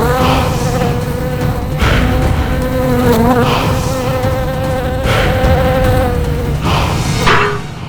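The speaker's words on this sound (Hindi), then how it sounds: "बचाओ, ये मक्खी मार देगी मुझे" Insect buzzing, tagged as a housefly, drones continuously and loudly over dense background sound with a few sharp thumps, during a tense scene in a Hindi courtroom drama.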